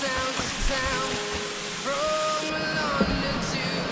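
Steady, broad rushing roar of a waterfall heard from the pool at its top on a hike, loud and continuous throughout, with faint whistling tones over the water noise.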